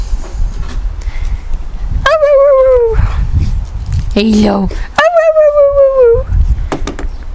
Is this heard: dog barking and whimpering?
yes